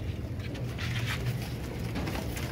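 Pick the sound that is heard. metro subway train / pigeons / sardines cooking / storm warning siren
pigeons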